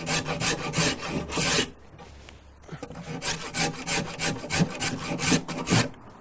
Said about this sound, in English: This is a spoke shave, a very small base, so it's very good for doing the insides of curves and so on.